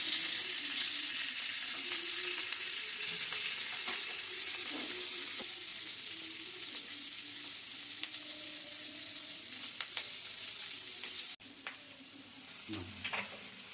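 Capsicum and deseeded tomatoes sizzle steadily in a pan as they fry, a continuous close crackle with a few faint stirring clinks and no talking.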